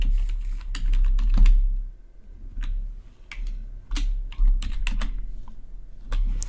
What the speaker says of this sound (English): So I'm going to type in strawberry.